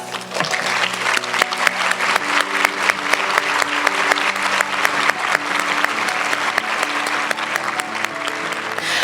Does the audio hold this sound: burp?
no